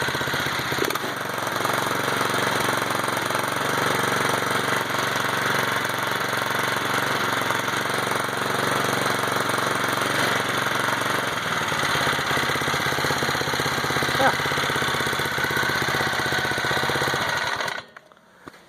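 A Predator 173cc engine fitted to a Snapper RT5 tiller runs steadily at close range, a loud, rough, continuous chugging drone that cuts off abruptly at the end.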